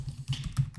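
Someone types a git command at a computer keyboard, giving a short, quick run of close, soft key clicks with no speech.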